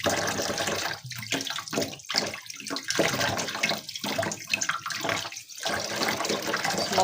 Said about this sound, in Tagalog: Kailangan hugasan mabuti yung mga gulay.